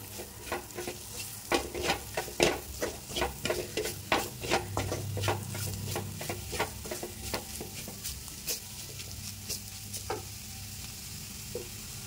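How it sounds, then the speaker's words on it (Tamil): Masala sautés in hot oil in a pan, with a soft sizzle under repeated scraping stirs of a spoon, close and fairly quiet, no voices. "சேர்த்துட்டு கொஞ்சம் அதோட பச்சை வாசனை போகிற அளவுக்கு அப்படியே இந்த எண்ணெயிலே வதக்கிக்கலாம்"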